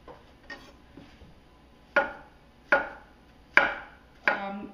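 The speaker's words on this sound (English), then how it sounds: "And we're gonna slice it up." A knife slices through a peeled banana onto a cutting board, five distinct close taps at a steady, unhurried rhythm, clear and alone.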